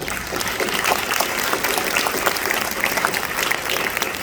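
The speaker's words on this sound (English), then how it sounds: "I think our events team deserves a little bit of applause" Sustained applause from an audience filing into a hall for an evening congressional candidates forum, dense steady clapping heard at close range that fills the whole stretch without letting up.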